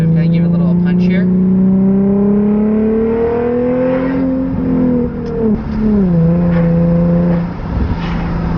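An Infiniti G37 with an Exotic Speed exhaust revs up in a smooth, rising pull, then drops back and settles to a steady idle, loud and close, with a brief second blip.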